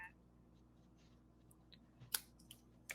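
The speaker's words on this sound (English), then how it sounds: "I'm going to snip that." Scissors snip a quarter-inch strip of Lost Lagoon cardstock during rubber-stamp card making: two short, crisp cuts stand out against a quiet room, one in the middle and one near the end.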